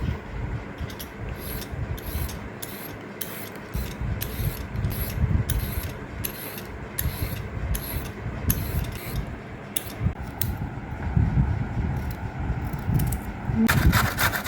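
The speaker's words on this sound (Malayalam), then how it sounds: "ആദ്യം നമുക്ക് ക്യാരറ്റിൻ്റെ തൊലി കളഞ്ഞെടുക്കാം." A carrot being peeled for a healthy vegetable salad, heard as a steady run of rapid rhythmic scraping strokes, close and fairly loud, carrying on for the whole stretch with no talking.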